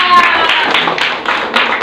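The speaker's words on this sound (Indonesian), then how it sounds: "Tuh, tepuk tangan." A group claps hands in a classroom singing lesson, a brief burst of close, dense clapping that fades as voices carry on.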